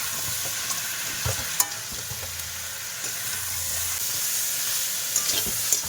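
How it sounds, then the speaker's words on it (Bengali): River crabs from the Sundarbans being stir-fried in a potato curry, a steady close sizzle with occasional stirring scrapes and spoon knocks, no voices. "এর মধ্যে কাঁকড়াগুলো দিয়ে দেবো দিয়ে একসাথে ভালোভাবে আবারও কষা করি"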